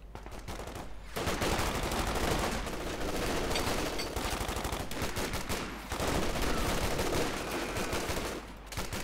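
Dense automatic gunfire from Company of Heroes 2 battle, including an MG42 and a .50 caliber machine gun, rattles in long loud bursts with overlapping shots and brief pauses, dominating the mix without speech.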